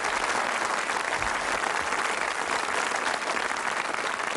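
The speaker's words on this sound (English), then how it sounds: "Do a nice round of applause." Applause from a 1988 Strike it Lucky game show studio audience, dense and steady clapping that fills the whole stretch at an even level with no voices on top.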